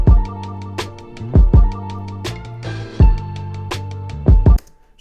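A soulful sampled hip hop beat with boosted, compressed bass, punchy kicks and snare hits over a looping chord sample, loud and steady, with no talk.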